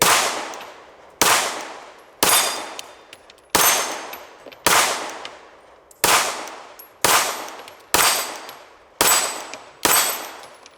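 PSA Dagger pistol loaded with a Fab Defense magazine firing ten sharp, loud shots at an even pace about one per second, each bang trailing off into a short echo.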